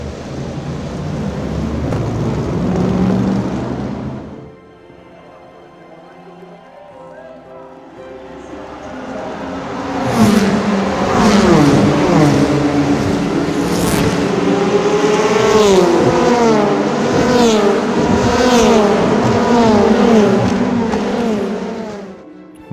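Race cars at Le Mans in 2016, among them a Ford GT, roar as they accelerate. A voice is heard at first, then loud engine noise rises and holds, with rising and falling pitch sweeps from several cars.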